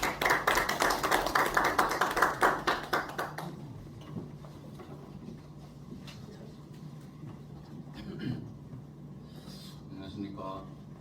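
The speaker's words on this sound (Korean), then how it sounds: "박수 부탁드리겠습니다" An audience at a university economics lecture claps for several seconds in dense, steady applause that fades out. Quiet room noise and faint talk follow.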